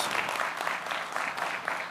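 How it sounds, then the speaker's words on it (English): A conference audience applauds to welcome a speaker onto the stage: dense, steady clapping from many hands that holds at an even level for the full two seconds, with no talk over it. "Let's give him a round of applause."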